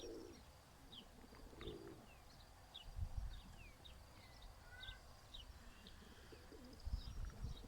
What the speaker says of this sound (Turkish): Van güvercinleri dışarıda.